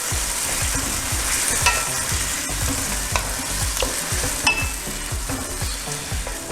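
Mutton and its gravy stirred into frying masala in a pan: a loud, continuous sizzle with repeated scraping strokes of the spoon in a steady rhythm, close up and without any voices.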